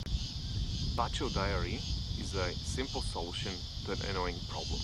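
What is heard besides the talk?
mating cicadas in a park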